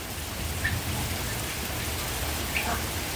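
Heavy rain pours steadily in a dense, even hiss outdoors, with a couple of faint higher chirps poking through and no talking.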